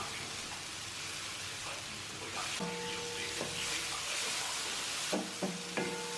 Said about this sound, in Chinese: 接下来把切好的姜蒜、小米椒也倒在锅中，再次翻炒均匀